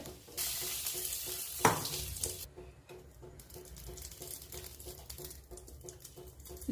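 Hot tempering with curry leaves hits a chutney with a loud sizzle that settles into steady crackling and frying, with faint stirring taps throughout.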